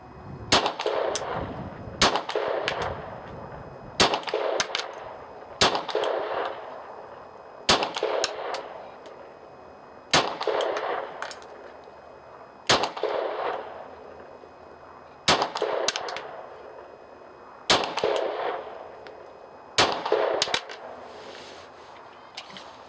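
A Ruger SR9 pistol fires at a 50 meter range, roughly a dozen sharp, loud shots spaced a couple of seconds apart, each ringing briefly before the next.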